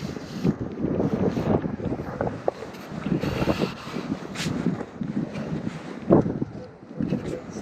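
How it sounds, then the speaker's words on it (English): Strong wind on a beach buffeting the microphone in continuous rumbling gusts, loud and close, with a voice talking faintly underneath. "The wind's meant to get pretty strong today, guys, so I apologise in advance if it affects the recording."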